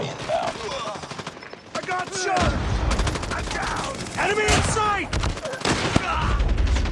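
Rapid automatic gunfire from Call of Duty Mobile on the close-quarters Shipment map in a 10v10 match, dense bursts running nearly throughout and loud, with a voice speaking over the shooting.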